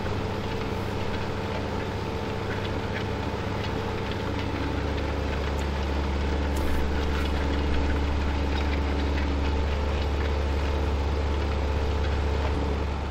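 Tractor pulling a cultivator in Farming Simulator 2015, a steady low engine drone with a constant mechanical hum, continuous and even throughout.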